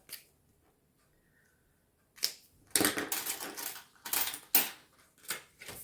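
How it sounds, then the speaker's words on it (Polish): A die rolled during a board game: after a faint tap and two quiet seconds, a close, sharp run of clattering knocks arrives in several bursts that fade out. "Rzucam kostkę."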